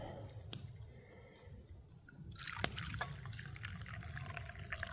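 Cold water poured into a teacup at a winter woods camp: a faint trickle and drips with a few soft splashes, quiet and close against a low background.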